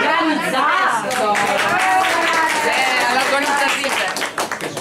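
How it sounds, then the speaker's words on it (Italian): At a surprise party in San Donato di Ninea, guests clap for the organizers while a voice speaks loudly over them; the clapping grows more distinct and scattered as the talking fades at the end. "Un applauso a chi ha organizzato."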